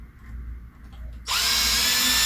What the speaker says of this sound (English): then I just drill a hole